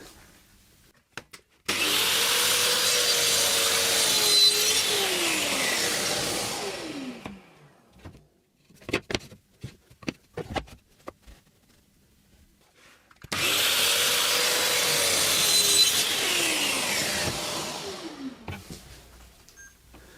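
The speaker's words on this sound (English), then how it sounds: "it's a straightforward cut back on the cross-cut jig, having set the saw back to 0" A table saw cuts wood on a cross-cut jig in two passes. Each time the blade whines up to full speed, rips steadily for about five seconds, then winds down, with soft handling clatter between the two cuts.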